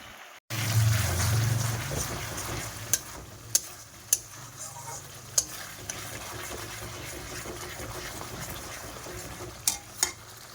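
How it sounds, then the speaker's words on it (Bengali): Spice masala frying in a pan before mutton goes in: a steady sizzle runs throughout, broken by a few sharp clicks of a spoon against the pan, with a low hum at the start. "মশলাটা ভালো করে ফ্রাই হবে"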